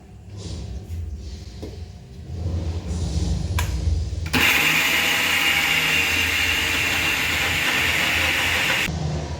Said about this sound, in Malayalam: ഒരു ഗ്ലാസ് മോര് അതിൽ കൂട്ടി അരയ്ക്കാം